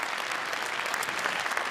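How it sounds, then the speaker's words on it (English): A full audience applauds at the Startup Awards ceremony, dense and continuous clapping that fills the room evenly for under two seconds, with a faint crowd murmur beneath. "So one great applause for the Slovak viewers."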